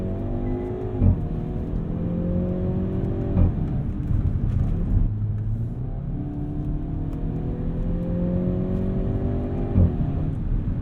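A 2022 Hyundai Veloster N hot hatch accelerates hard from inside the cabin, its engine note climbing steadily in pitch before each quick gear change drops it back down, repeating several times under a constant loud road drone.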